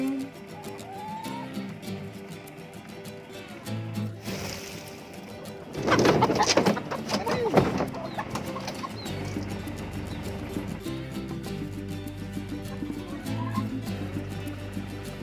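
Laying hens cluck and call with a burst of wing flapping in the middle as they are released into a new farm pen, heard among background noise and some talking.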